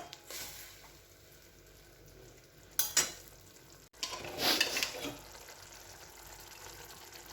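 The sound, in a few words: spice masala frying with water in a pan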